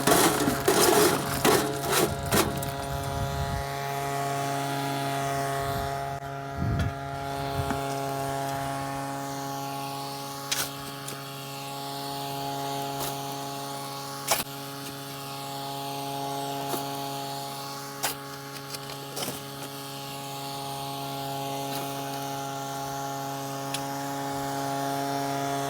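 A Royal Manufacturing drywasher runs steadily with a droning mechanical hum while material is fed in, heavy crunching and rattling at the start giving way to the continuous machine drone with occasional sharp clicks.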